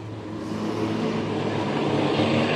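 A speedway race car at Gympie Speedway drives past, engine note rising steadily as it revs and approaches, fairly loud, ending in a sharp bang, with no talking.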